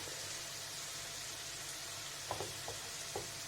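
Garlic fries in a pan for a spicy tomato gravy with onions, giving a steady low sizzle, with a few soft stirring clicks near the end and no talk.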